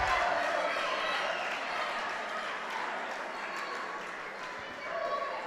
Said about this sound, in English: the crowd and the noise is coming from the French team as they won on mat 4